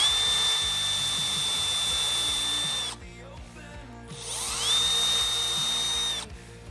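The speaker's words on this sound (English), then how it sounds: "shoot the brad point, or the framing point, I should say, in behind that" A powered framing point driver fires brad points into a wooden frame while an old table is converted into a bird home: two long, loud whining bursts of several seconds each, separated by a brief pause with small mechanical clicks.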